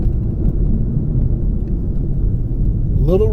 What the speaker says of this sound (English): Little road noise.